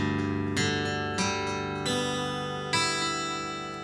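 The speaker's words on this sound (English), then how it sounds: "This is an open G tuning" Acoustic guitar, a Hoffman, strummed in open G tuning, four ringing chords struck a few at a time, each left to sustain and fade, played alone.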